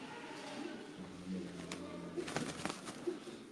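A pigeon coos softly a few times, fairly faint and at a distance, over background noise and scattered clicks.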